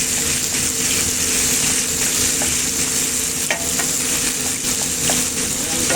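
Shrimp paste (alamang) sautéing in a pan, giving a steady loud sizzle and frying hiss with occasional stirring scrapes throughout.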